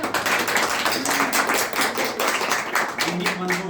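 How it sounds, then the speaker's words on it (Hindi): A group claps at a Childline Srinagar gathering: dense, continuous clapping with voices mixed in. "तालियां तालियां।"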